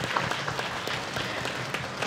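A gathered audience applauds warmly, a continuous even patter of many hands clapping at moderate distance, fairly soft but unbroken throughout.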